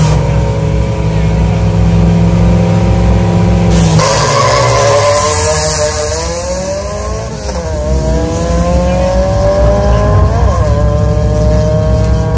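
A 1993 drag racing car, its engine rebuilt with new and racing parts, roars loudly and continuously, revving up and down through several rising and falling sweeps up close.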